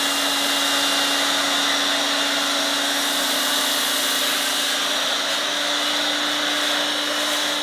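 An MTM PF22.2 foam cannon with a wide-neck bottle and revised manifold sprays thick foam, a steady, loud hissing rush with a constant low hum that runs unbroken from start to finish, no voices over it.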